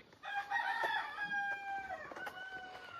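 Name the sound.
chickens clucking and rooster crowing in a village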